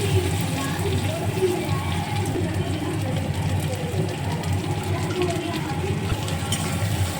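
Mustard and poppy seed spice paste hits softened potatoes frying with turmeric in a pan, giving a steady, close crackling sizzle that stays even throughout.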